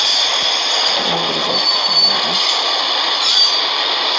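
A video game train in Max Payne rumbles and rattles as it gets moving, with a steady high metallic whine over the low clatter and no voices.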